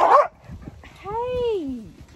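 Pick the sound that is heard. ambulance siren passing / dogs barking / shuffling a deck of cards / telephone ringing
dogs barking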